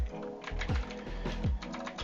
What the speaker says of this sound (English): and then I'm out here typing